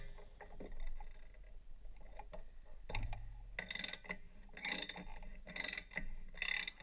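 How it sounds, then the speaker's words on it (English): A wrench ratchets in short bursts of sharp metallic clicks while a spark plug is loosened from cylinder 1 of an aircraft piston engine, heard close and faint in a quiet workspace. "Remove the spark plug from cylinder 1."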